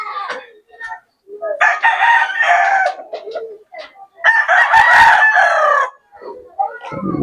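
Backyard-bred gamecock roosters crow loudly and close by, several drawn-out calls in succession with clucks in between and someone talking briefly in the background.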